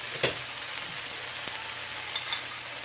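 Fried yam and egg sizzle steadily in a hot pan, a dense continuous hiss with a few faint clicks and taps from stirring, no voices over it.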